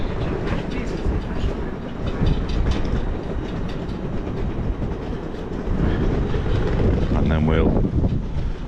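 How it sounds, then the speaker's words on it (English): A train pulls into a UK station platform on the way toward London, a steady rumble and rolling clatter with wind buffeting the microphone, fairly close and continuous throughout. "Oh, here's the train."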